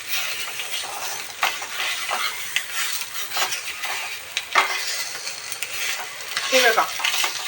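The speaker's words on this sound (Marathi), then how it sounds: "आपण हे शॅलो फ्राय करतोय ना" Bhangda (mackerel) fish shallow-frying in a little oil in a pan, a continuous close crackling sizzle with occasional sharper pops and a brief metallic scrape near the end.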